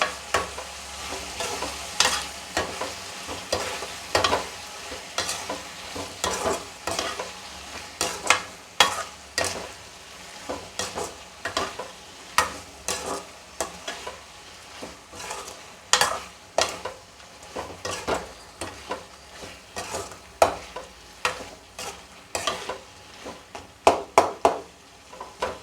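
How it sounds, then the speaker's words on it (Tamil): Ground ginger, garlic and spice paste with cumin, pepper and fennel sautéed in a pan for mutton kulambu: steady sizzling frying under a close, continuous run of spatula stirs and scrapes, with no talk. "அதை அதில் போட்டு நல்லா பச்சை வாசனை போகிற வரைக்கும் நல்லா வதக்கணும்."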